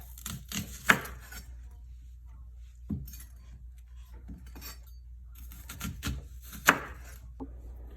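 Onions are chopped with a knife on a board, giving sparse, sharp thuds and taps in small irregular clusters over a low background hum.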